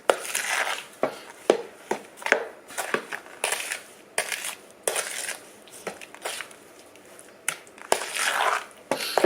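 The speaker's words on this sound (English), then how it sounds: "We're going to stir that in there." A spoon stirs sugar into a big bowl of cranberry salad, making repeated wet, gritty crunching scrapes in an uneven rhythm, close and fairly loud, with no talking.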